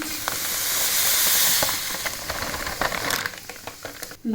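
Fine semolina poured into ghee and roasting in a pan, a loud hissing sizzle at first that settles into softer crackling with scraping and rattling of the spoon.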